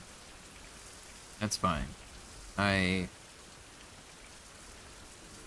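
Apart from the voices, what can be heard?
rain falling in a survival video game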